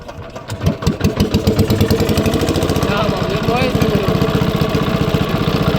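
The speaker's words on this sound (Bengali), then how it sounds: "এই যে নৌকা চলতেছে এখন" A motorboat engine chugs steadily and loudly throughout on a water lily lake in Bangladesh, with a rapid pulsing rhythm, while voices talk over it.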